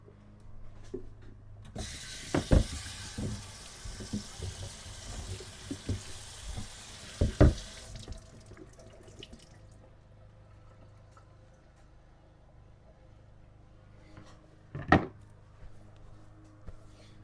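Tap water running into a kitchen sink while vegetables are washed, a steady hissing stream for several seconds with occasional clunks and knocks of handling around it.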